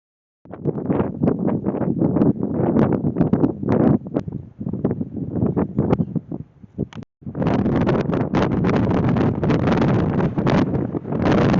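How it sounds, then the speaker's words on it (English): Strong wind in Utah buffets the microphone in loud, gusty roars, easing briefly before surging back into a steady, heavy blast. "Wind out here is just nuts."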